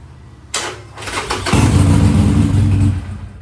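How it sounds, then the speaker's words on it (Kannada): A Harley-Davidson Forty-Eight motorcycle cranks over and catches, then settles into a loud, steady, close-up engine rumble without a voice. "ಇಲ್ಲಿ ಪ್ರೆಸ್ ಮಾಡಿದ್ರೆ ನಮಗೆ ಗಾಡಿ ಸ್ಟಾರ್ಟ್ ಆಗುತ್ತೆ"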